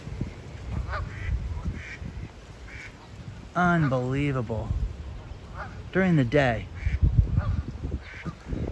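Geese in a park honk loudly in alarm at a coyote, two bursts of wavering, repeated calls rising above outdoor ambience, with someone talking between them.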